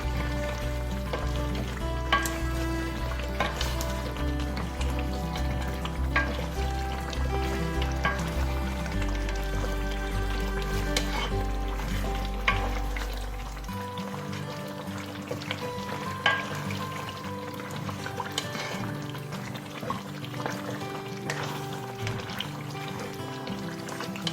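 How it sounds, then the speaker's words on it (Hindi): Chicken karahi roasting with masala in a wok, a steady sizzle and crackle with occasional stirring scrapes over a constant low background hum, no talking. "अब हम इस मसाले के साथ भूनना है हमें इस कढ़ाई को, तो अच्छे से भुनाई करना है इसकी।"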